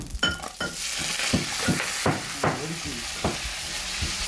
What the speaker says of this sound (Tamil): அடுத்து வந்து வெங்காயம் கருவேப்பிலை இலையை போடுவோம்